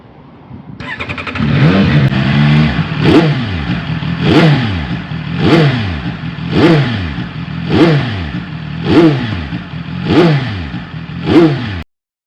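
A CF Moto 675 SR-R motorcycle engine cranks and fires up, then settles into a close, loud idle punctuated by a steady series of about eight sharp throttle blips, each revving up and falling back.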